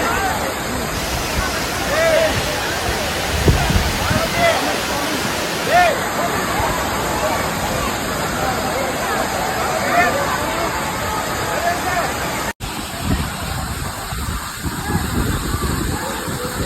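Agaya Gangai waterfall in the Kolli Hills pours in a steady, dense roar of falling water, broad and continuous, with a crowd's murmur mixed into the rush and a brief drop near the end.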